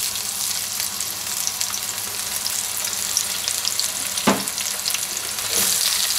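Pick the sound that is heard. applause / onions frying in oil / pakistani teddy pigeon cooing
onions frying in oil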